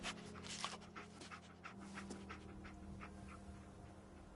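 A dog in the video game Fallout 4 pants softly and steadily in quick rhythmic breaths, faint and close, over quiet game ambience.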